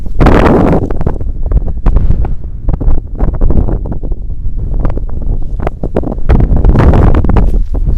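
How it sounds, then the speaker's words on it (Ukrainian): Strong wind buffets the microphone in heavy, continuous roaring gusts that surge and ease, close and loud, with nothing else audible. "Вітер сильний."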